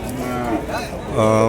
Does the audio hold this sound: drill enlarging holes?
no